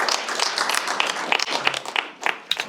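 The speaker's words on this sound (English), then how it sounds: "We're going to give you a round of applause." A studio audience at a live dating game show breaks into applause, a dense crackle of many clapping hands that holds steady and thins toward the end.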